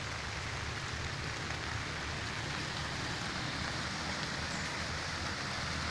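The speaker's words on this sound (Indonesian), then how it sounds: "Ini posisi hujan kawan" Steady rain falls on a hillside planting at 1300 metres elevation, a dense, continuous hiss with no pauses, fairly loud and even across the whole stretch.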